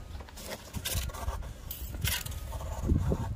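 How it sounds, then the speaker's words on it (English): Tangled wall decor gets pulled apart by hand, giving soft scraping, rubbing and rustling bursts with small knocks, close and fairly quiet, irregular in rhythm. "I'll untangle it."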